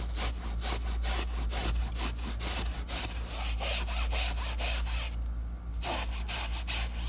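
A bristle brush scrubs dirt from a car seat in rapid, rhythmic back-and-forth strokes, loud and close, with a short pause near the end before the scrubbing resumes.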